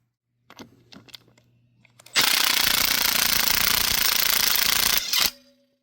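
Impact driver hammering Titan HD anchor screws into place during a patio roof build, a loud steady rattling burst of about three seconds after a few faint knocks, close by and alone.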